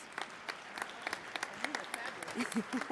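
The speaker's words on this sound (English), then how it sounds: "Can we give them a big round of applause?" An audience at a conference session applauds its panelists with scattered, moderately near claps forming a round of applause, while voices murmur and speak faintly underneath toward the end.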